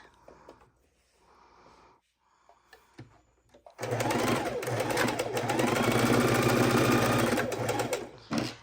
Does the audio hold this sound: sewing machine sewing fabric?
yes